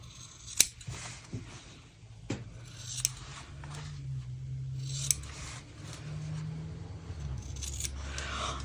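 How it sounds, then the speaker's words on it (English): Several sharp, close snips of scissors trimming excess fabric from the corners of a sewn snap pouch, spaced irregularly over soft handling and rustling of cloth in a quiet room. "cut off all the excess on the corners so that it sits nicely when we turn it right sides out"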